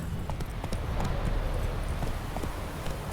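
Roach, a horse in The Witcher 3 video game, gallops with rapid rhythmic hoof clip-clops, close and steady across the whole stretch, no talk.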